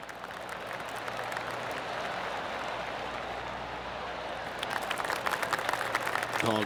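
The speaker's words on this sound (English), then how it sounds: "Oh, golf clap." Polite golf clap applause from a tournament gallery at the Arnold Palmer Invitational in PGA Tour 2K25, a steady wash of many hands clapping at moderate distance that swells slightly toward the end.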